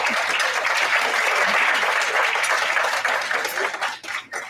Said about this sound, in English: So, again, round of applause